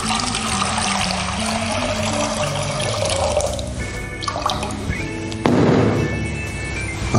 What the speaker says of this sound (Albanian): Shtem ujë.